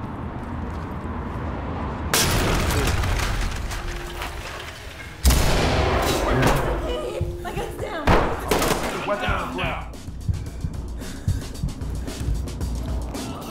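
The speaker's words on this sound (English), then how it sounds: "C2, flashbang it and clear it." A flashbang grenade goes off in a tactical shooter video game. Several loud, sudden blasts burst over a busy backdrop of game noise and voices, with rumbling decay after each one.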